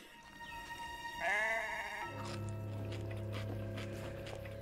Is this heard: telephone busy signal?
no